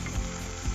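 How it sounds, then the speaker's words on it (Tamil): Whole cinnamon pieces, cloves and cardamom sizzle steadily in hot oil for chana poori, a continuous close frying hiss with two soft low bumps of stirring. "போட்டுட்டு நல்லா வதக்கி எடுத்துக்கலாம்."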